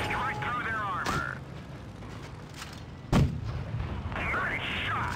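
A tank cannon firing in the video game World of Tanks Blitz: one sharp, heavy boom near the middle, with a lighter earlier thud, over constant game noise and music-like tones, with talk around it.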